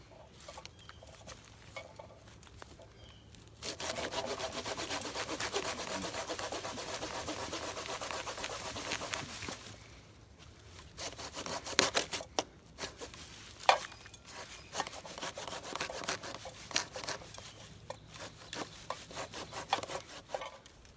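A cedar branch is sawn by hand with steady back-and-forth rasping strokes, close and fairly loud. A long continuous run of strokes is followed by shorter, irregular bursts of cutting separated by pauses.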